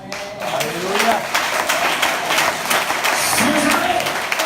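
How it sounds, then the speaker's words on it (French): A church congregation claps in praise during a worship service, dense continuous applause close by with voices calling out over it. "offrons à Dieu un applaudissement"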